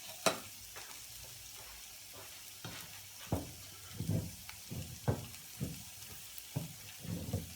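Sausages and onions fry in a pan with a quiet, steady sizzle, broken by a series of sharp scraping and stirring knocks as the onions are turned.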